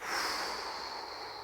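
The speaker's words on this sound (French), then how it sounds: "inspirez profondément une vingtaine de fois et soufflez" A person exhales forcefully and steadily through the nose or mouth as part of a deep breathing exercise. It comes as one long, close, breathy rush with no talking.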